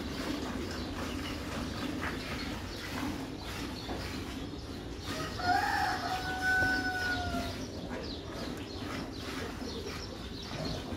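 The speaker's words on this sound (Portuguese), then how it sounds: "no canto de galo que é bonito" Rooster crowing on a farm, one drawn-out crow rising over a constant murmur of farmyard and machinery noise, moderately distant and clear.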